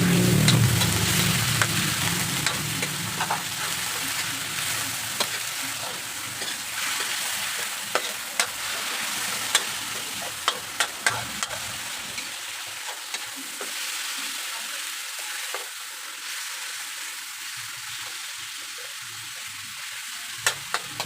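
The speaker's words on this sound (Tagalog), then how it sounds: "ilagay na natin itong chicken" Chicken for pancit fries in a pan and is stirred, with a steady sizzle and repeated scraping clatters of the utensil. The frying is loud at first and eases to a quieter hiss, with no voices.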